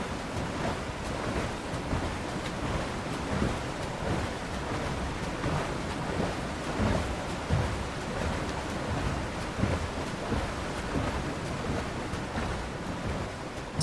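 Outdoor field recording of powerful water and surf at Morvern, a dense, continuous wash of waves with wind buffeting the microphone, steady and full for the whole stretch with no voices.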